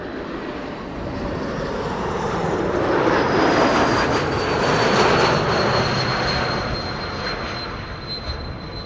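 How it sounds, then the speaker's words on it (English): An Air France Airbus A220-300 arriving at Amsterdam Schiphol, its engine roar swelling as it passes fairly close, peaking midway with a high descending whine, then slowly fading. "the A220-300 from Air France, flight 1640, arriving from Paris"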